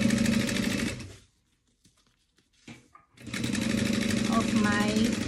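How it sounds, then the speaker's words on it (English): A sewing machine stitching along the edge of fabric with a quarter-inch seam allowance, a loud steady mechanical whir that stops for about two seconds with small handling clicks, then runs again while someone talks over it. "So I'm going to be sewing right"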